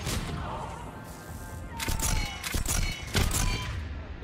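A weapon firing in Mass Effect 3, heard as a rapid series of loud bursts and crashing impacts during the second half, set against a constant roaring game background.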